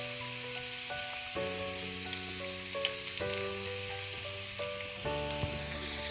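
Carrots and red capsicum strips with salt stir-fried for veg chowmein, a steady close sizzle with a continuous hiss throughout and sustained tonal hums shifting in pitch, no voices.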